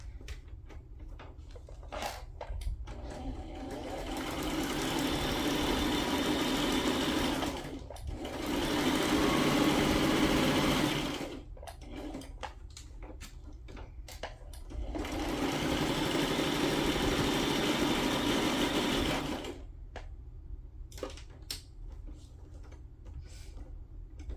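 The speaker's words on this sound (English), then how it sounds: "I'm just sewing around the tag really quick." A sewing machine stitching around a paper tag for an ephemera holder, whirring in three sustained runs of several seconds each, separated by pauses filled with small clicks and handling taps, close and fairly loud.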